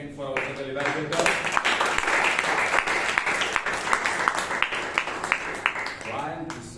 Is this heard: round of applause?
yes